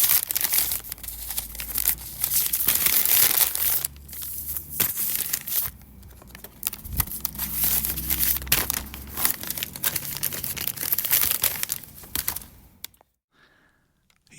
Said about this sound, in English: You can hear Jen slide those seed packs in